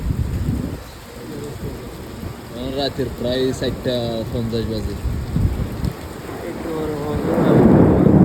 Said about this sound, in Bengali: যে বজ্রপাত হচ্ছে পুরো কিন্তু আওয়াজটা কিন্তু না হচ্ছে একদম শুনতে পারো।